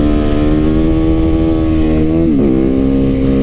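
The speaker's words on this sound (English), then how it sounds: "What you just saw is a supermoto, the Suzuki, a 2016 Suzuki DRZ 400." A 2016 Suzuki DRZ 400 supermoto single-cylinder engine runs loud and close at a steady idle, its pitch dipping briefly with a throttle blip near the end before settling back.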